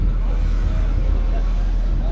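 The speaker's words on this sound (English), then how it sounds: "I think this taco truck has an exhaust leak" A taco truck idles nearby with an exhaust leak, a steady low rumbling drone with a rough, throbbing texture, continuous and close throughout.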